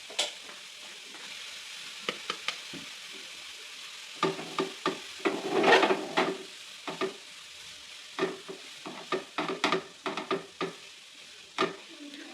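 Grated carrot, about three cups, sizzles in hot ghee in a pan while a spoon stirs it in a steady run of scrapes and clacks, with a louder burst of frying partway through.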